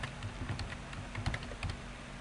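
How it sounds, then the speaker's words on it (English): Quiet, close typing on a computer keyboard, with a quick, uneven run of soft key clicks lasting about two seconds. "Okay, I'm going to type"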